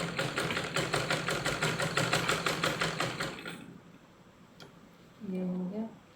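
A sewing machine stitches one side of a cut pyjama (pant) seam, running in a fast, even rhythmic clatter for about three and a half seconds, then stopping; a short voice follows near the end.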